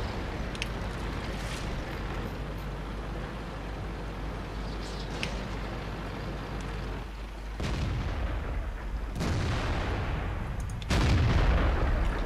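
Tank cannons fire in the World of Tanks video game, including a KV-1S: several booming shots with rumbling tails amid battle noise, the loudest and closest blast near the end.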